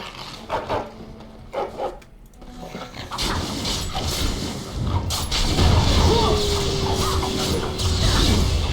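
Combat in the video game Dragon Age: Origins with a war dog fighting: growls and barks, clashing weapon impacts and crashes over game music, with someone talking at times.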